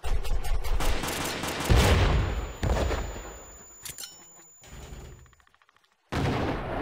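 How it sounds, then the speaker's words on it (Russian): Grenades exploding in a shooter video game set around a dragon tower: several loud, close blasts with rumbling decay, one after another, then a short gap and another burst. "Надо туда кинуть гранаты."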